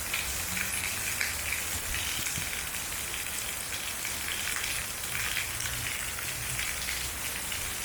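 Steady rain in Sandakan, Borneo, a dense, even hiss of drops hitting surfaces all around, continuous and fairly loud with no voices.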